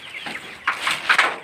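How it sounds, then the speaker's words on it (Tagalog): Several frightened chickens give short bursts of clucking nearby, one after another, with no talking. "Natakot yung mga manok natin."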